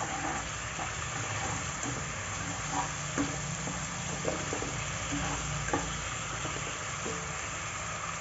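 Tofu fries with chili paste in a hot pan, giving a steady close sizzle and hiss, broken by scattered soft clicks and scrapes of a utensil stirring gently, with no talking.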